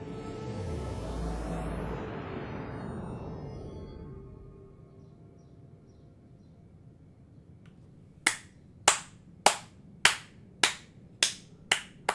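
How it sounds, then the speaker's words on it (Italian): A descending synthetic sweep fades away, then nine slow, sharp handclaps ring out one by one in a steady, deliberate rhythm with a slight echo. "Applauso accademico,"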